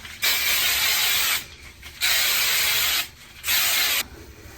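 Regular hairspray sprayed onto curly hair in three sustained bursts, each about a second long and separated by short pauses, a close, loud airy hiss.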